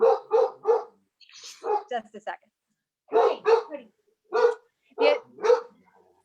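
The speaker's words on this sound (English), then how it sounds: "my doorbell just rang, so there's dog barking" A house dog barks after a doorbell rings, letting out several sharp, close barks in quick clusters separated by pauses, while a person briefly speaks.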